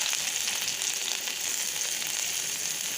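Ginger and garlic fry in a little hot oil for masala Maggi noodles, giving a steady, loud, close sizzle that runs unbroken throughout with no voices.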